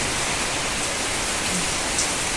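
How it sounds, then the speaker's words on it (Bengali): Heavy rain pours down in a dense, unbroken roar, steady and close, with no voices. "জোরে বৃষ্টি হচ্ছে"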